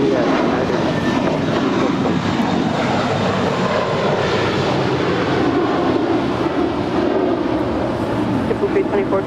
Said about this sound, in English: It's JetBlue Airways Flight 324, and it's an Airbus A321